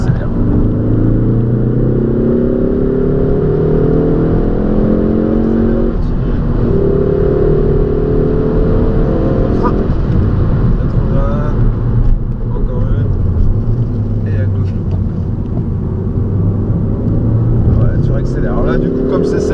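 A 2.0-litre 250 hp Ford Focus ST EcoBoost drones steadily on a race track as its engine pulls hard under acceleration, with rising tonal sweeps, while an instructor talks over it throughout.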